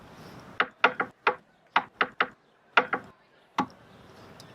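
Sharp knocks on a bedroom wall tapped out in code, about a dozen close, crisp raps arranged in irregular groups of two and three with short pauses between them, heard alone.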